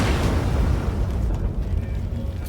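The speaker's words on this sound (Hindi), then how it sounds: "तुरंत एक सुनहरी ऊर्जा का विस्फोट हुआ, जिससे कांटों की दीवार जलकर राख हो गई।" A burst of golden magical energy explodes in a Hindi horror story, a loud rumbling boom that rolls out and slowly fades over a couple of seconds, with no voices.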